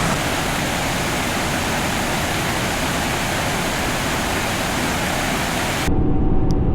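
A forest waterfall pours into a small pool and creek, a loud, constant rushing roar close by that holds steady without pause.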